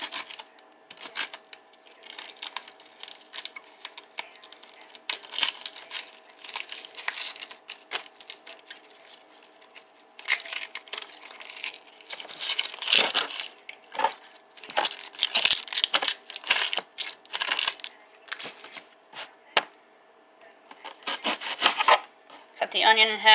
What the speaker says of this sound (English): Cut the onion in half.